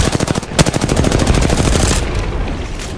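Rapid automatic gunfire in the shooter game Apex Legends, a loud, close burst of evenly spaced shots running continuously for about two seconds before blending into a dense, sustained roar of firing.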